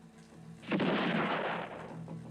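A single gunshot in a Western film scene, a loud booming blast that swells and rolls off over about a second and a half, with a low hum underneath.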